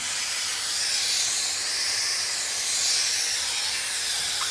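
Steady, loud hiss of a hat steamer blowing steam over the top of a hat at a crank hat press, close and continuous with slight swells in intensity.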